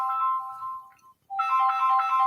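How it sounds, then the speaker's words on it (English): A phone ringtone plays a bright, repeating electronic melody, drops out for a moment, then starts again loudly and continues with no voices over it. "Forgot to turn my phone off."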